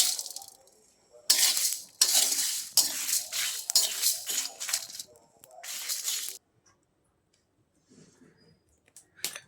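Duck meat frying in a pan with cumin, coriander and garam masala, a bright crackling sizzle in bursts with scraping stirs, then fading to near silence.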